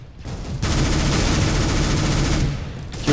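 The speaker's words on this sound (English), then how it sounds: "Where are those bullets flying from? Obviously from someone's gun." Sustained rapid gunfire in the video game CS:GO, a loud continuous burst of shots that fills nearly the whole stretch, with no talking.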